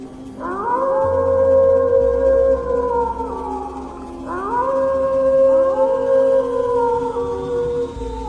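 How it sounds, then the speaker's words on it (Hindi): A jackal howls in the distance for a horror story, two long rising then sliding wails in a row, eerie and sustained over a low droning hum, no speech. "कहीं दूर से किसी सियार के रोने की आवाज आई।"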